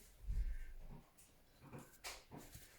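A dog makes a few soft, short whimpering whines with small yips and huffs, close by and fairly quiet, with pauses between sounds.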